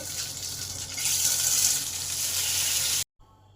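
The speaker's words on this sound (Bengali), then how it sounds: "আবার বাকিগুলো ভেজে নেব" Egg and flour breakfast snacks fry in a pan with a steady, close hiss of sizzling oil that swells slightly, then cuts off abruptly near the end.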